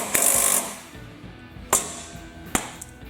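A nut is tightened on a John Deere LT160 riding mower during drive belt work: one longer burst of close metallic ratcheting followed by two sharp, short clanks, with quiet gaps between.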